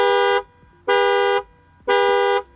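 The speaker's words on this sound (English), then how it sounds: "So you can sound the alarm, hold it down. It's going to go ahead and send that command." Chevrolet car alarm set off remotely from a phone app, blaring three loud, sustained horn-like blasts of about half a second each, evenly spaced with short pauses between them.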